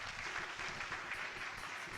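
A church congregation applauds steadily and loudly in praise, a dense, continuous wash of clapping held at an even level throughout.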